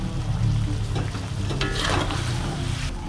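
Fried vegetables and meatballs tipped into a hot pan for Penang Nyonya bak steak, loud steady sizzling with scraping stir strokes and short bursts of crackle, close up with no talking.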